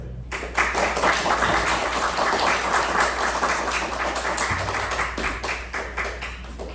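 An audience at a club meeting breaks into loud, sustained applause as a speaker is welcomed to the stage, clapping rising quickly and holding steady before easing slightly near the end.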